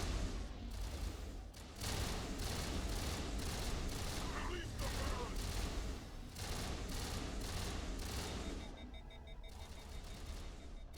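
Sustained rapid automatic gunfire in Mass Effect, the weapon prone to overheating, dense and continuous with brief pauses between volleys and a player talking faintly beneath it.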